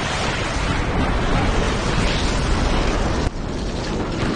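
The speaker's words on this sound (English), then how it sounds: "Artillery incoming!" Sustained loud rumbling barrage of artillery explosions in the Captain America: Super Soldier video game, a dense continuous roar with a sharp drop near the end, no voices.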